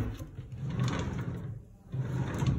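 Drawers of a chest of drawers slide open or shut in an apartment bedroom, a continuous wooden scraping and rumbling with a brief pause partway through, close and moderately loud.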